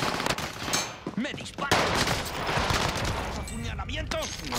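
Bursts of rapid gunfire in Call of Duty: Modern Warfare crackle amid chaotic effects, with a voice speaking over parts of the action.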